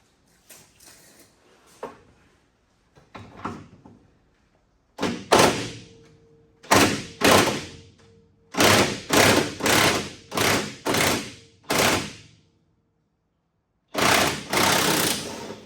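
Channel locks working a stubborn, badly rusted nut and bolt loose on a Firebird build, heavy repeated metallic thumps and scraping bursts in an irregular rhythm, close and loud, separated by short pauses.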